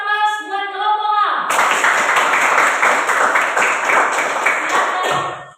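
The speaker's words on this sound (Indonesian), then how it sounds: "Berikan aplaus buat kelompok A" A classroom erupts in applause for a presenting student group, dense overlapping hand claps sustained for about four seconds before tapering off, preceded by a brief musical chime.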